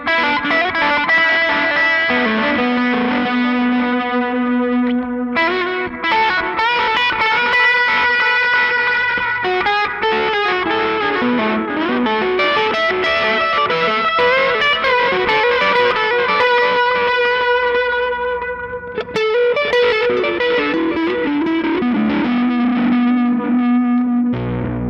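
A distorted Danelectro 66BT baritone electric guitar plays a sustained lead line, thick and loud with effects, notes ringing and bending continuously without pause.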